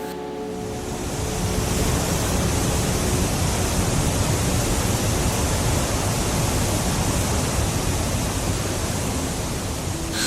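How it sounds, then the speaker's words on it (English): Thunderous roar of a waterfall at the edge of a South American jungle in Peru, a dense, steady wash of loud broadband rushing water that fills the whole stretch without a break. "the thunderous roar of waterfalls at the edge of the jungle"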